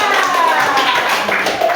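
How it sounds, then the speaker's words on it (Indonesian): Students in a classroom clap for a group after its presentation, a brief burst of scattered hand claps blended with voices and room noise. "Tepuk tangan untuk kelompok 3"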